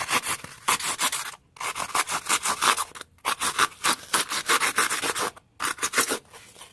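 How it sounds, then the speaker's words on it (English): A sheetrock saw carves through styrofoam for dollhouse basement landscaping, making rapid, rasping back-and-forth strokes in three bursts separated by short pauses. The sound is close and fairly loud, with no voices. "And then I carved the styrofoam using a sheetrock saw"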